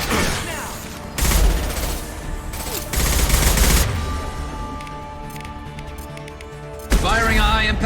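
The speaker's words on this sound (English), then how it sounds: "Firing a high-impact shot!" High-impact gunshots from a Mass Effect 2 firefight crack out as loud, repeated bursts of weapon fire, with quieter mechanical clatter in between and a final blast at the close.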